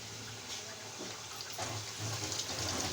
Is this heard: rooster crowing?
no